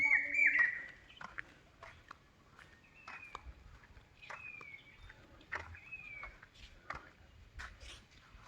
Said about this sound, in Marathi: पावसा पक्षी ओरडतोय